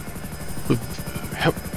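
An FH-1 Hunter attack helicopter in GTA 5 Online whirs with a steady, close rotor chop throughout, broken by two brief, louder bursts.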